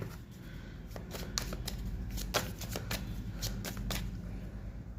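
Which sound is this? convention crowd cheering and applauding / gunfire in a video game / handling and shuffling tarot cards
handling and shuffling tarot cards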